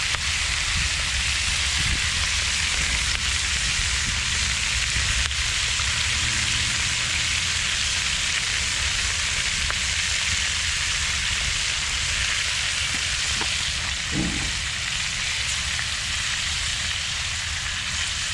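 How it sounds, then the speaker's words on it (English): Eggs frying in bacon grease on a Santa Maria grill outdoors: a continuous, even crackling sizzle like light rain, steady for a long stretch with a few faint clinks and knocks, no voices. "we'll throw some in here so we can fry our eggs in some good old bacon grease"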